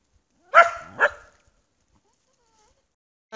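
A dog gives two sharp barks close by, then silence follows.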